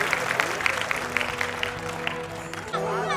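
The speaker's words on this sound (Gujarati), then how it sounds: "એકવાર જબરદસ્ત તાળીના ગડગડાટથી" Audience clapping at a Gujarati folk lok dayro programme in Kadsala village, Panchmahal, a steady patter of applause from a crowd that carries on through the whole moment.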